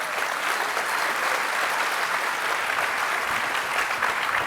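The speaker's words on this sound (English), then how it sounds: "can we get the last round of applause for our panelists?" Conference audience at a Bitcoin 2023 event in Miami giving panelists a final round of applause, a dense, loud, unbroken roar of many hands clapping for the whole stretch.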